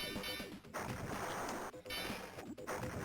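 A Gaelco arcade video game plays dense, loud crashing and exploding effects as pieces blow apart, in several bursts separated by short dips in the noise.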